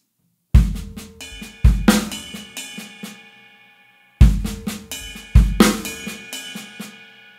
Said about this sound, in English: all your snare notes are gonna be extremely soft, except for the backbeats of 2 and 4